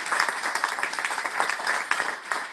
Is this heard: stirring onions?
no